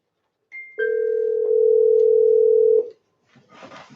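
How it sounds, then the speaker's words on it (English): A single steady ringback tone on an outgoing telephone call sounds clearly for about two seconds after a short beep, then gives way to faint rustling. "Come on, pick up the phone."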